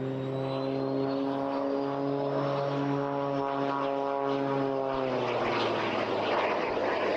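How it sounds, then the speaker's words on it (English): Small jet aircraft at a seaside airshow pass overhead with a steady engine drone and a high whine that slides in pitch, then swell into a louder rushing roar toward the end, with no talk over it. "You hear the distinctive sound of those little jet engines holding out."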